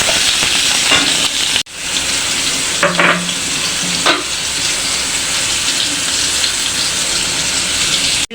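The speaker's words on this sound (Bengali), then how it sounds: "আলুগুলি এখন ভেজে নিব" Potatoes fry loudly in hot oil, giving a close, steady sizzle throughout. The hiss dips briefly for a moment, and a couple of short stirring clinks come from the pan, with no voices.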